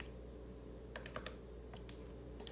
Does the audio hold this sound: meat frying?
no